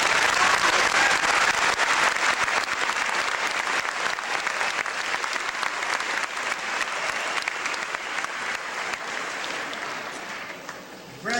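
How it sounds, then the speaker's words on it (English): A large audience at a Metro State graduation ceremony applauds the graduates with dense, sustained clapping that holds strong for about ten seconds, then gradually thins near the end. "Please join me in a round of applause for all of the graduates."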